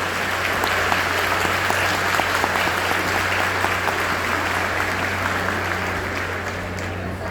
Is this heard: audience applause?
yes